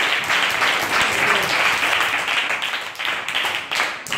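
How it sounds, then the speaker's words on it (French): Children and adults at an orphanage in Divo applaud together in sustained, loud clapping that rolls on for several seconds, with faint voices underneath. "On acclame."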